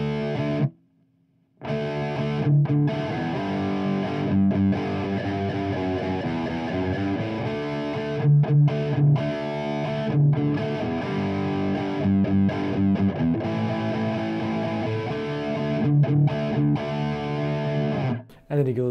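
Distorted electric guitar plays a riff with chorus-like effects, dense and loud with chugging rhythmic chords, a brief dropout near the start and a cut at the end.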